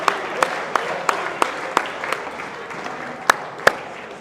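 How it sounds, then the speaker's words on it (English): Audience at a season-opening event applauding a guest, a moderate wash of clapping with several sharp, louder individual claps spaced through it. "big round of applause"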